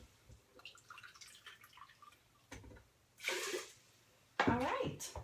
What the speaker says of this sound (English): and then I'm going to add 3 cups of water